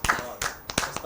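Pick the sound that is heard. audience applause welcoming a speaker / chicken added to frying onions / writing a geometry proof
audience applause welcoming a speaker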